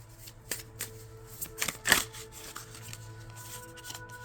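Tarot cards are handled, shuffled and flipped on a table in a string of close, crisp slaps and riffles at uneven intervals, with one louder snap near the middle and a soft hum underneath.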